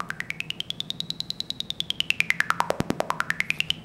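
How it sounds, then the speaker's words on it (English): A rapid train of sharp electronic clicks from an impulse generator, evenly spaced, passed through a swept filter whose resonant tone sweeps up, down, dipping low, then climbing again. "All this is just an impulse generator going through a filter, and we're sweeping that filter"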